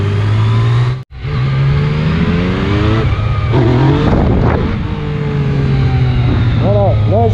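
Yamaha MT-07 motorcycle engine held at a steady loud drone during a wheelie, dropping out briefly near the start, then rising in revs with rapid pitch sweeps toward the end, heard close and continuous.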